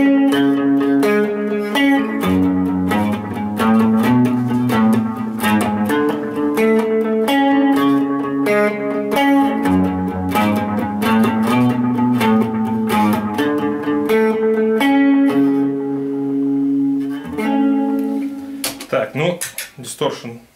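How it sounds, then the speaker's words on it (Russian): Electric guitar played through a DS-2 distortion pedal: a loud, continuous run of sustained, buzzing, heavily distorted notes and chords that shift in pitch throughout, ending in a brief burst of scratchy noise. "Дисторшн DS2 классный, мне нравится."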